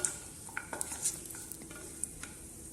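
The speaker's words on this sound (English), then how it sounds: "We would be sauteing them till the cashews are light brown and the raisins starts to puff up." Cashews and raisins sautéing in ghee for sweet pongal give a soft, steady sizzle with a few light clinks and stirring scrapes against the pan, close by and fairly quiet.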